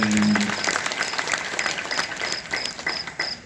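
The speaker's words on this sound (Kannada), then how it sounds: "ಸಲ ಜೋರಾದ ಚಪ್ಪಾಳೆ" Loud applause from a crowd, dense overlapping claps that hold steady before tapering slightly toward the end.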